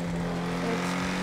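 A car engine in GTA 5 roleplay drones steadily at constant loudness, a close, continuous hum with a brief whoosh of wind and no speech.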